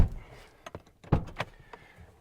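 A Toyota Tacoma door handle is worked after reinstalling the cover plate, giving a few close, sharp clicks and thunks of the latch mechanism with quiet gaps between them, no voices.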